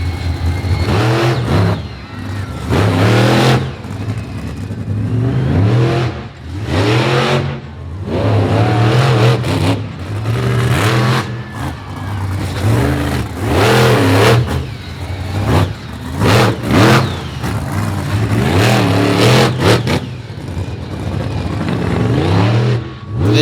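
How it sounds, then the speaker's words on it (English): Chevy Silverado race truck with a 540 cubic inch Chevrolet engine, loud repeated revving and accelerating passes with wavering engine pitch, rising and falling over a long stretch at a motorsports facility. "the big 540 cubic inch Chevrolet block engine in the back"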